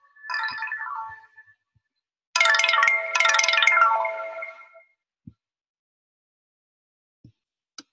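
A phone ringtone chimes in two melodic bursts, a short one followed by a longer, louder run, then silence with a few faint clicks.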